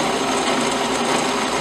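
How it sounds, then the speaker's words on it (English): A standard drill bit bores into plastic PVC pipe while a hydraulic relief tool is being made: a steady, close, grinding whir at constant loudness, with no voices over it. "when drilling plastic or PVC pipe, anything that's plastic with a standard drill bit, the bit's going to want to grab"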